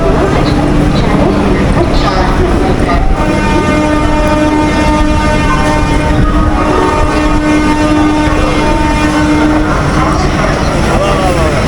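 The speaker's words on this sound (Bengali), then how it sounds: "13 নম্বর প্ল্যাটফর্মে দাঁড়িয়ে রয়েছে হাওড়া দীঘা স্পেশাল ট্রেন" Howrah–Digha special local train standing at platform 13 at Howrah, a steady idling hum and station bustle with a faint horn tone, while someone talks close over it.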